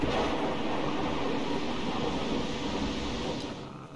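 Steady roaring dust storm wind in the video game Gas Station Simulator, a dense continuous rush of broadband noise that holds loud and even throughout, easing slightly at the very end.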